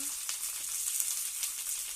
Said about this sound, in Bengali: তারপর সবজি কোটা প্রথম ভেজে নেওয়া হচ্ছে